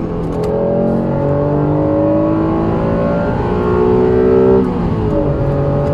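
A Honda NSX sports car engine revs steadily with rising and falling harmonic tones, loud and close, pitch climbing then dropping sharply near the end.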